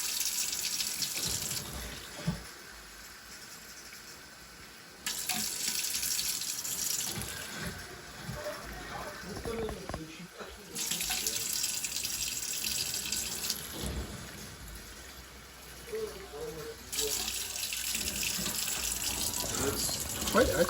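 Tap water running into a sink to measure a one-to-one ratio of water to rice for onigiri, flowing in several steady bursts with handling noises between, close and fairly loud.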